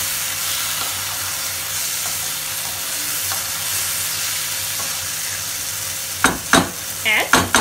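Prawn masala with capsicum frying in a pan, a steady loud sizzle and hiss that runs throughout, followed near the end by a few scraping clatters of a spoon stirring.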